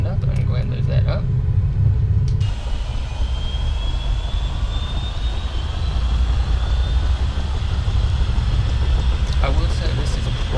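The second engine of a Bell 222B helicopter in Microsoft Flight Simulator whines and rises in pitch as it spools up, a low rumble beneath, with a brief burst of speech at the start.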